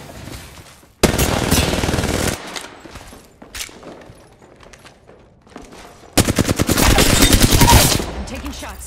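Video game gunfire rips out in two loud, rapid automatic bursts, one short and one longer, close up, with quieter game sounds in the gaps between them.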